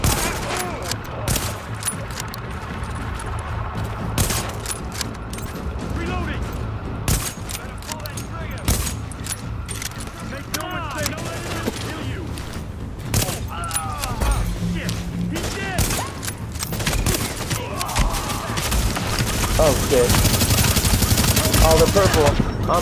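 Sustained gunfire in The Division video game, rapid automatic bursts and scattered shots crackling throughout a long intense firefight, with voices talking over it.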